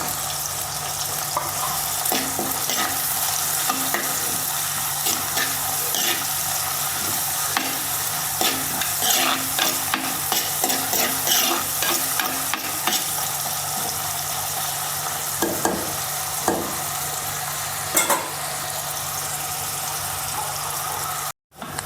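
Shallots, ginger and garlic sauté in a hot pan with a steady, close sizzle, broken by scattered scrapes and clinks of stirring, with no voices over it.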